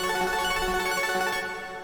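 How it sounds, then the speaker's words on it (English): A dry synth lead built from two saw waves and a sine wave, with no effects, plays a bright, buzzy sustained tone rich in harmonics, held steady and fading slightly at the end, alone. "There are 2 saw waves and one little sine wave like this."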